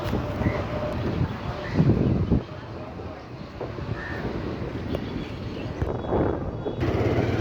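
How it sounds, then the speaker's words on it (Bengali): Wind buffeting the microphone while riding a motorbike around a university campus in Chittagong, a continuous rough roar with gusty surges, heard alone without talk. "সেরা বাতাস, সেরা ওয়েদার।"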